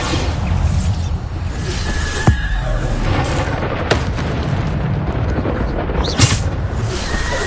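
Bombarda explosion spells go off in Hogwarts Legacy combat, producing booming blasts with whooshes amid a continuous roar of game effects and a few sharper impacts.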